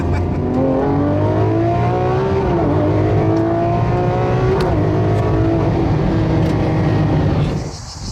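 A Lamborghini Aventador SVJ engine roars loud and close as it accelerates, pitch climbing through gear changes over several seconds before easing off at the end.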